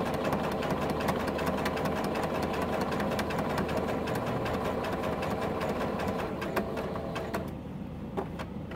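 Sewing machine stitching a fabric frame border onto a T-shirt quilt block, a steady fast mechanical whirring and needle patter running continuously, loud and close, with a few brief pauses near the end.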